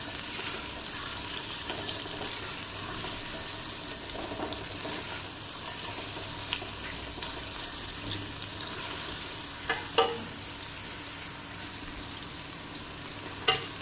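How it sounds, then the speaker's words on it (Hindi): Thick-cut onions fry in a pot for a desi-style yakhni, giving a steady close sizzle with occasional stirring clatters and a few sharper clinks, no talking over it. "साथ ही हम एक अदर जो हमने मोटी मोटी प्याज कटिंग करके रखी थी वो डाल देंगे।"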